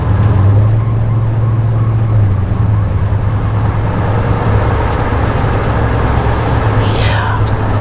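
A truck converted from a former police car drives along with a loud, steady engine and road drone from inside the cab. A voice talks over the noise near the end.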